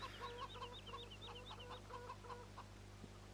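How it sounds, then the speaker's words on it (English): Chickens clucking on a farm in the Farming Simulator 17 video game, a quiet, repeated run of short clucks over a steady low background hum. "You can hear we've got chickens"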